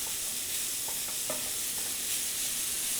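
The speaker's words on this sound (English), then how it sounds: "And now just mix them on a slow to medium flame." A cardamom powder mixture sizzles steadily in a pan over a slow to medium flame, with a continuous frying hiss and faint scraping stirs, no talking.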